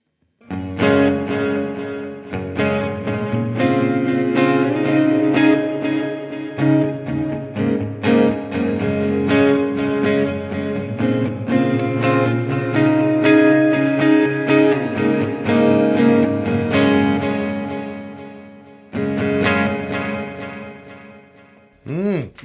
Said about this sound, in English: The next setting is the same delay, but with room version 2 reverb.